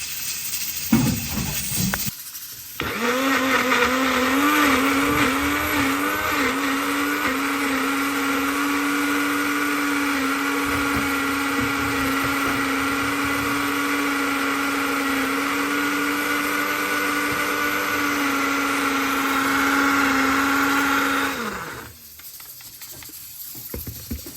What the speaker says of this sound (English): I'm gonna blend out the last bit